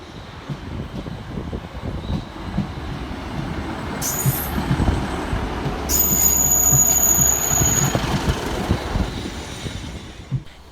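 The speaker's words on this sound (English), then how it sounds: "Next up to arrive at the station is 150-251, working the 1504 Transport for Wales service from Cardiff Central" A Transport for Wales Class 150 diesel unit, 150-251, rolls into a station with a low rumble that builds as it nears, then high wheel squeal and a hiss of air brakes as it slows.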